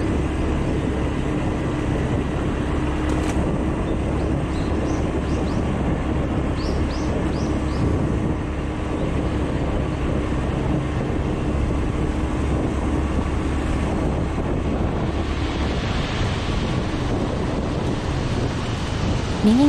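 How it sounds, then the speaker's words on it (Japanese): Continuous low roar of large stone quarry machinery running at a distance, a steady droning rumble with faint higher chirps scattered on top, beside a river. "採石場の大きな機械が作動中です。"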